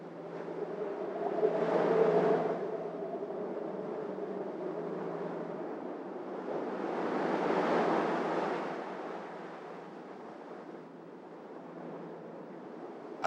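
Ocean waves and wind sweep across the Drake Passage at sea, a broad roaring wash that swells loudly twice and eases between surges, steady and close.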